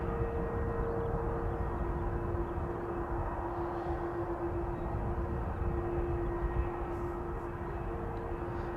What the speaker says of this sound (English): The wind is blowing the airplane engine sounds towards us. Embraer 190 to London Heathrow, following the two A330s.